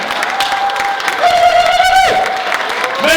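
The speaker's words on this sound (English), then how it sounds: "So give yourself a big clap and make some noise." A crowd at a Black Mental Health Week closing ceremony applauds with steady clapping and scattered cheers and whistles, loud and continuous throughout.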